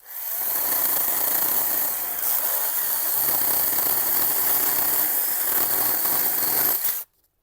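A Procraft PKA 45 chainsaw cutting wood roars steadily at high revs for several seconds, loud and close, then cuts off abruptly.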